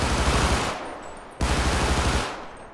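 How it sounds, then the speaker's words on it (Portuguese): Rapid automatic gunfire in GTA V during a police shootout, two loud close bursts of machine-gun fire separated by a brief pause, with no talk over them. "tiro pra tu aí, Branco, no vidro"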